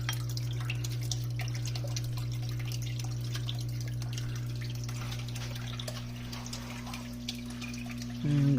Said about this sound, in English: So the water is flowing here.